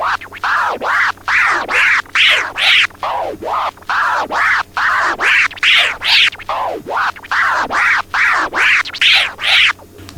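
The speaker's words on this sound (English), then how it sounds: "making that complete baby scratch" A DJ works a turntable with a steady run of baby scratches, each stroke sweeping low to high in pitch, repeating rhythmically and loud for the whole stretch with no talking.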